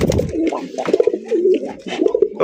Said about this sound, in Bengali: আপনার সুপার মিলি রেসার কবুতর